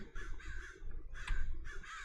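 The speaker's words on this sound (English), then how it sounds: "Stupid birds!" Several crows caw in Modded Minecraft, harsh raspy calls in quick repeated bursts, near and fairly loud, with two clusters separated by a short pause.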